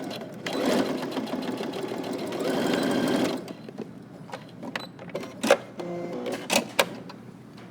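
A sewing machine stitches fabric while making slacks from Simplicity pattern 8749, running steadily for about three seconds and then giving way to scattered clicks and handling noises.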